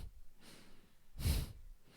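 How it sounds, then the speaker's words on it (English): Slow, deliberate breaths during kundalini yoga alternate-side breathing: a soft airy inhale, then a fuller, louder exhale, close and quiet, with no talking. "Inhale left, exhale right."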